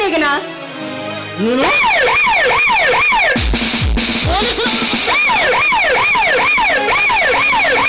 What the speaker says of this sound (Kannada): ಅಲ್ಲಿ ಜೀಪ್ ಸೌಂಡ್ ಆಗ್ತಾ ಇದೆ